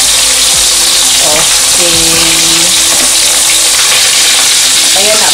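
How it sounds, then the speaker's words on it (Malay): Fish sizzles and crackles loudly in hot oil for Kelantan-style cooking, a dense continuous frying hiss close up, with a brief spoken word and some clattering in the background. "Goreng sama ikan ni pun goreng masa minyak panas."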